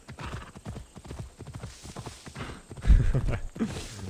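Horse hooves clip-clop on a mountain path in the video game Assassin's Creed Odyssey, a steady trotting rhythm up close with a louder thump near the end.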